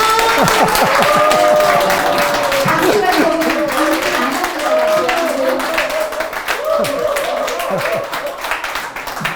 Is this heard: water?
no